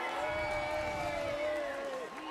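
Crowd in the stands at a European Karate Championship final bout, steady broad applause and cheering filling the arena, with a commentator's voice running over it throughout.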